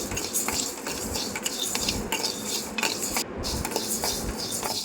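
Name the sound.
rice being dry-roasted and stirred in a kadai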